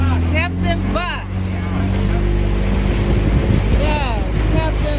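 A boat motor drones steadily with wind buffeting the microphone in Belize, while people talk over the engine noise.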